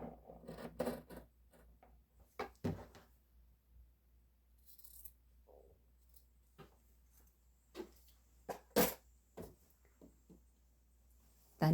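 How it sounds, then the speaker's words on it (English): Scissors snip quietly through the corner of a fabric bag being sewn, a few sparse crisp cuts and soft rustles close by in a hushed room. "Then you're going to cut that box out."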